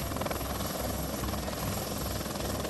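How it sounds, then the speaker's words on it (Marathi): A rescue helicopter flies over a river in flood, its rotor thudding in a loud, continuous rapid beat close by, with no talk. "आता काही तरुणांना घेऊन पुन्हा हेलिकॉप्टर जे आहे ते बाहेरच्या भागामध्ये येत आहे"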